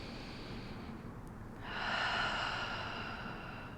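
A slow, deep breath taken during a Pilates stretching exercise: a quiet inhale followed by a longer, airy exhale that swells and then fades gently, close and soft with no talking.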